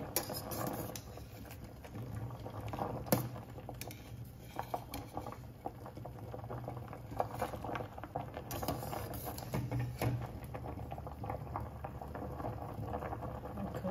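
Potatoes boil in a pot, a soft, continuous bubbling and patter of simmering water heard close and fairly quiet, with occasional small clinks.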